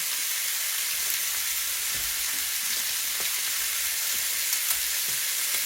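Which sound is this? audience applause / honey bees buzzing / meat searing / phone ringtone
meat searing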